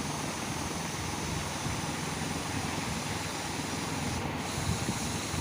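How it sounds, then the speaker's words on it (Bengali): Green chillies are ground into a paste while making an egg curry, giving a loud, steady, continuous whirring grind that holds at an even level throughout. "এবার এটার একটা পেস্ট বানিয়ে নিচ্ছি।"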